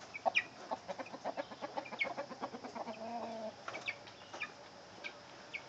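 Chickens cluck in a run of quick, rhythmic notes close by in a small coop area shared with quail, with a few brief higher calls mixed in and no talk.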